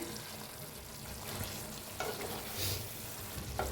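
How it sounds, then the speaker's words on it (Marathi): Egg curry gravy stirred in a pan, a quiet bubbling simmer with a few soft spoon scrapes and knocks, close and fairly faint. "आता हलवून घेऊया."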